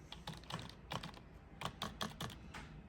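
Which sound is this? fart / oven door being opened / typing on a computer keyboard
typing on a computer keyboard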